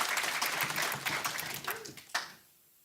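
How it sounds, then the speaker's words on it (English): An audience claps for Esme at a Christmas baking demonstration, a scattered burst of applause that thins out and fades to quiet within a few seconds. "Give Esme a round of applause, everybody"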